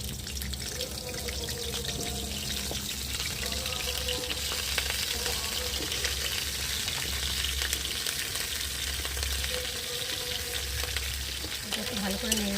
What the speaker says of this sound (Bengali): এই যে কেটে রাখা ফুলকপিগুলো দিয়ে আগে ভেজে নেবো।